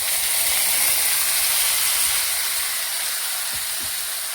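Mixed vegetables hit hot oil in a pan, producing a loud, continuous close-up hiss and sizzle that stays steady and fades slightly at the end, with no talking.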